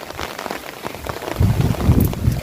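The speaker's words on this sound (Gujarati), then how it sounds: "વરસાદ ચાલુ છે" Heavy rain pouring down during a prolonged downpour, dense patter of drops on surfaces growing louder with heavier low splashes in the second half.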